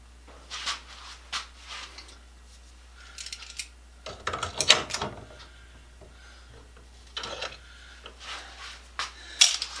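Craig vise grips are opened and clamped one-handed in a workshop, making quiet metallic clicks and snaps in scattered clusters with short silences between them.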